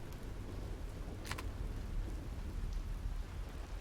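Medium rain falls in the video game Empyrion: Galactic Survival, a steady dense hiss of rainfall with a low rumbling undertone and one brief crackling burst partway through.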